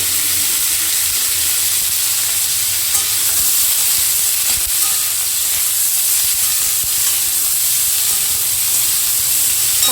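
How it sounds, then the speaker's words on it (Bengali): Boiled green jackfruit frying in hot oil, a loud, steady close sizzle and hiss with occasional stirring scrapes, running unbroken with no speech. "এর ভেতরে প্রথমে যে সেদ্ধ করে রেখেছিলাম কাঁঠালটা সেটা দিয়ে দেব আর দিয়ে একটু ভেজে নেব।"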